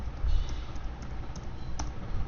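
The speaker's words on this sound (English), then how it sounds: "we will type Streamlit" A command is typed on a computer keyboard as a few soft, scattered key clicks over a steady hum of room noise, with no voices.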